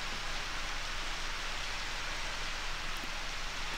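Rain in the Harvest Moon: Back to Nature video game falls as a steady, even hiss, fairly faint and heard alone.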